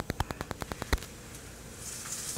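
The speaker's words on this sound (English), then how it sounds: "The oil is now frying the tortilla in spots." Oil frying a tortilla in a pan, where a quiet series of light, evenly spaced taps gives way to a soft, building sizzle and hiss.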